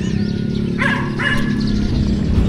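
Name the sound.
dogs barking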